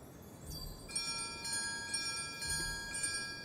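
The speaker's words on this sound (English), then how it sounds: "ring this bell" A bell in a video game rings in a few separate chimes with clear sustained tones, fairly soft over a low rumbling background.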